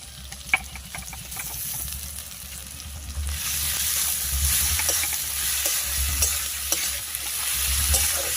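Ginger-garlic paste and onions sizzle loudly in a hot pan as they are stirred, with scraping clicks early on before the frying hiss grows stronger.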